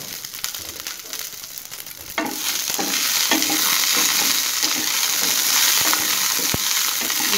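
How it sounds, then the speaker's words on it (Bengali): Dried chilies and unpeeled garlic cloves hit hot mustard oil, starting with sparse crackles and then surging into a loud, steady, close sizzle with occasional pops. "দিয়ে দিচ্ছি শুকনা মরিচ আর দিয়ে দিচ্ছি রসুন।"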